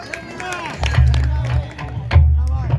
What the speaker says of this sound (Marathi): खरोखर त्यांच्यासाठी एकदा जोरदार टाळ्या वाजवा